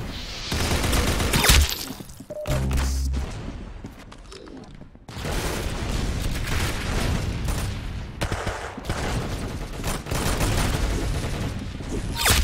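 Dense, rapid gunfire crackles through a match of the Roblox shooter Arsenal, with loud bursts of automatic fire broken by a few short lulls.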